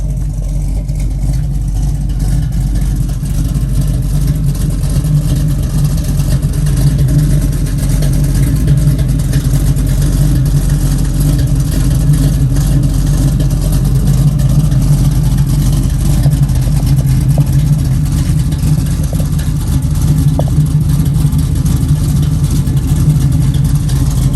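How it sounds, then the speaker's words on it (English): A 1969 Chevrolet Camaro engine idles steadily with a deep, throaty dual-exhaust burble, constant and close throughout, with no voices. "Nice dual exhaust."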